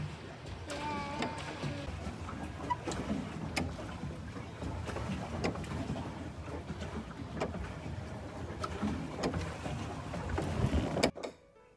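A boat cruises over water in the Vice City game, a low steady engine and water rush that holds constant before cutting off abruptly near the end.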